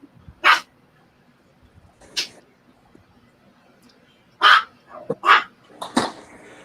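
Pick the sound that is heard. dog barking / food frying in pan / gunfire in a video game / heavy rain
dog barking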